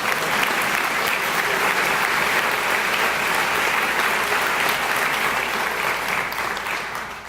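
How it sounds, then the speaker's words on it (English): Sustained, dense applause from a large graduation crowd at Chatham High School's 2014 ceremony, loud and steady throughout before easing slightly at the end. "Applause."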